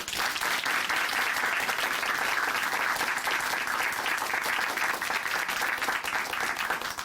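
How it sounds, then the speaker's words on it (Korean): A studio audience on a Christian testimony program applauds after a guest's testimony, dense and even clapping that continues for seven seconds without a break. "다시 한번 박수 부탁드립니다."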